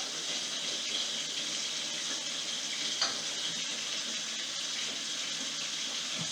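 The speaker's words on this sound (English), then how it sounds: "run a little bit more hot water over it just to do an even better job" Hot tap water runs steadily over ground beef in a kitchen, a continuous close hiss and splash at moderate level with no talking.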